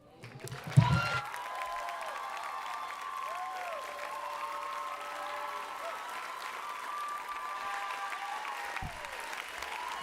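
An audience at a university diversity monologues event breaks into sustained applause, a steady wash of clapping that swells quickly and holds evenly for several seconds, fairly distant in the room.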